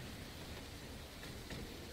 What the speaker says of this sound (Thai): มีฝนตกกันด้วย